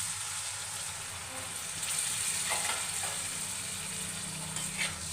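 Prawn masala sizzles and bubbles in a pan after water is added, a steady soft frying hiss with occasional stirring scrapes, close and fairly quiet.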